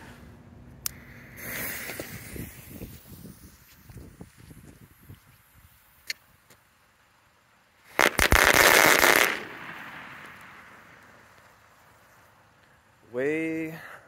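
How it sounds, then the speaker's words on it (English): A dense string of firecrackers bursts in rapid crackling pops for over a second, preceded by scattered snaps and fizzing, with a voice briefly at the end. "There's at least 50 firecrackers in there."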